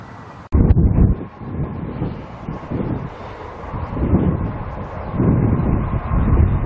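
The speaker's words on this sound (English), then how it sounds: "there's a train waiting in the station." A train stands at a station on the East Coast Main Line near Berwick-upon-Tweed, giving a steady low rumble with a sharp knock near the start, heard outdoors amid wind noise.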